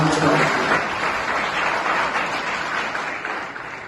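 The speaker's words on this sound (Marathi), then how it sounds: "एक जोरदार टाळ्या वाजवून" Enthusiastic applause greets a guest in a college studio interview program, a burst of clapping from a small audience that is loudest at the start and slowly fades over a few seconds.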